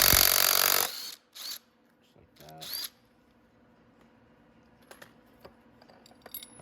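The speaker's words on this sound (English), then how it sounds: "You're going to want to use an impact to get it off" An impact wrench loosens the 21mm variator bolt on a Venom X22GT 250cc automatic motorcycle, giving a loud, close burst followed by two shorter rattling bursts, then quiet tool clinks.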